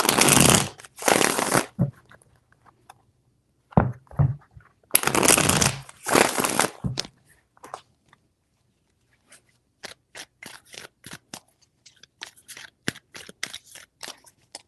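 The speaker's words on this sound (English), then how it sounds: "3 more shuffles." Tarot cards shuffled by hand in quick crisp riffling bursts, two long runs followed by scattered short snaps and flicks, close and fairly loud with no talking.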